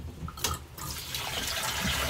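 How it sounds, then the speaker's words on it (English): Dirty water from washing potatoes is dumped out at an outdoor canning kitchen, a short splashing pour that starts abruptly and continues as a rushing flow, close and fairly quiet. "And then dump that dirty water again."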